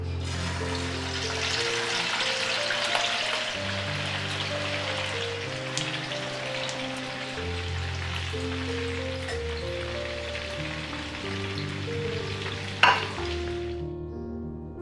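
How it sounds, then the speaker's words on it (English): Chicken pieces fry in oil with a steady, dense sizzle and crackle, heard alone alongside a low musical backing that runs throughout. "Time to fry the chicken pieces and this leftover oil will be used for the rest of the dishes."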